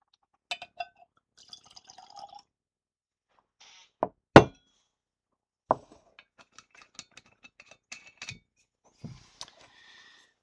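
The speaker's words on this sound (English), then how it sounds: "let's pour a glass" Old Overholt rye whiskey, a straight rye, poured into a glass: a few sharp clinks of glass and bottle, then brief trickling and dripping of liquid, close and clear with quiet gaps between, no talking.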